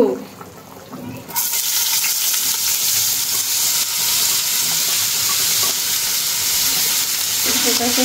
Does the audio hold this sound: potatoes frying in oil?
yes